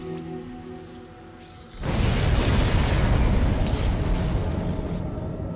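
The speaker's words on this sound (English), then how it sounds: "we're going to be doing some more useful things like blowing up this barricade" A bomb blasts through a barricade in the sci-fi horror game Dead Space, a sudden loud boom after a quiet hum that rolls into a sustained crackling, debris-filled rumble lasting several seconds.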